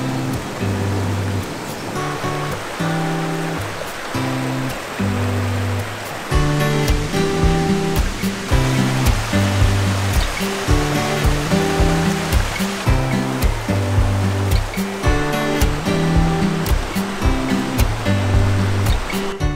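Waterfalls on a river in Galicia roar with a dense, constant rush of water, loud and near, overlaid by rhythmic music throughout.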